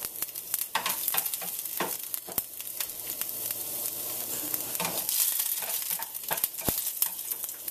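Garlic and ginger fry in hot oil for a spinach raita, giving a steady close sizzle broken by frequent sharp stirring clicks and scrapes throughout.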